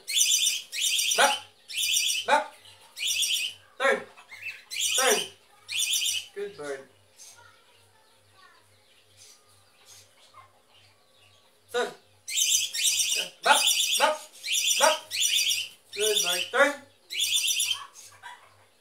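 A pet budgie chirps in quick bursts of sharp high tweets, loud and close, with pauses between them during a training session. A faint steady low ticking pattern runs underneath.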